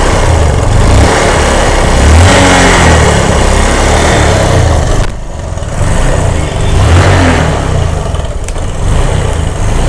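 A motorcycle engine roars loudly and continuously just after being started, with a brief dip near the middle before revving back up, steady and close with no talk.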